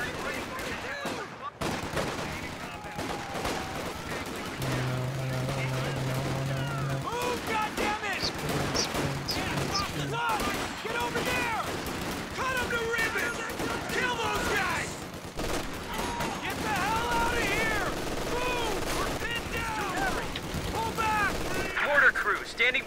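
In a video game battle, mortar fire and gunfire thunder in dense, continuous volleys and repeated bursts. Heavy booms and rattling shots mix with game music and effects, and stay loud for the whole stretch.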